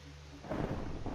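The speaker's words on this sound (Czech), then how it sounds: "A dokonce i bouřka." A Minecraft thunderstorm rumbles in, a low roll of thunder swelling after a brief quiet moment over a faint hiss of falling rain.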